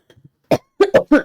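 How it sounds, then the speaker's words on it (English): A short burst of sharp, close coughs, three or four in quick succession after a brief quiet moment. "There's that cough again."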